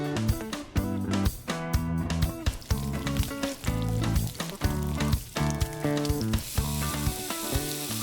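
Onions frying in oil in a pan until light brown, a steady close sizzle running throughout beneath background music.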